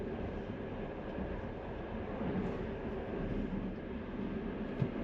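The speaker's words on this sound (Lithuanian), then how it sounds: "Norėtum per visą naktį važiuoti tokiu traukiniu?" Long-distance Lithuanian passenger train in motion, a steady low rumble and rolling hum filling the carriage, continuous and even with one brief knock near the end.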